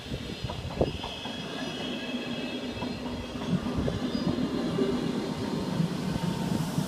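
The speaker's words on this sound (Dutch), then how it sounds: "Ik vind het wel een mooie trein dit." Dutch Sprinter train passing the De Riet railroad crossing in Almelo, with wheels rumbling and clacking over the rails and faint squeals, a steady moderately loud pass with no speech.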